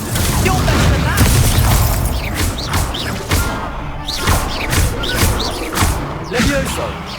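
Incendio fire spell cast in Hogwarts Legacy, a run of booming impacts and crashing blasts during a fight, repeated bursts mixed with game noises and a voice calling out.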